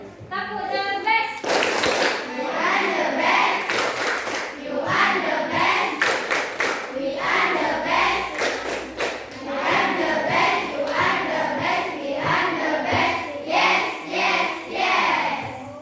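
Schoolchildren in a classroom doing a rhythmic clapping chant, loud patterned group claps interleaved with shouted voices, repeating in quick bursts for the whole stretch.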